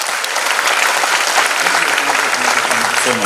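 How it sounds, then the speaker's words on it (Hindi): Loud, steady audience applause at a Teachers' Day event, a dense continuous clapping that fills the hall without pause. "सो जोरदार ताली आप सबके लिए."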